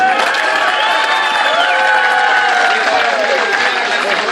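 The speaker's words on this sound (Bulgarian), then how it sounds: "първо да чуем нашите аплодисменти за Паулин Жерлин" Crowd cheering and applauding at a basketball dunk contest in Plovdiv, a dense, loud roar with shouts and whoops rising above continuous clapping from a packed arena.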